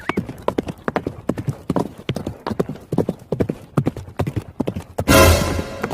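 A mare's hooves clip-clop in a brisk, steady walking rhythm on hard ground, close and prominent, ending abruptly in a burst of noise.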